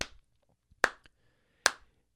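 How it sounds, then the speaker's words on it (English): Two sharp hand claps spaced slowly and evenly like quarter notes, crisp and close with short decays, alone with no talking. "I'm going to clap the quarter note while I sing my brushes here"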